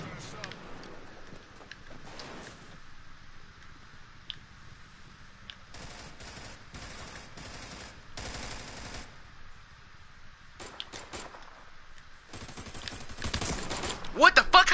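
Pistol shots in an online shooter video game, several sharp bursts and clustered volleys spread through the stretch, growing louder and denser toward the end, with voices talking in between.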